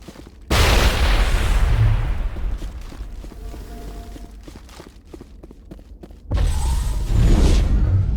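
Grenade blast in Mass Effect Legendary Edition: a sudden loud, close boom with a rumbling tail, followed by scattered gunfire and shuffling, then a second heavy explosion near the end.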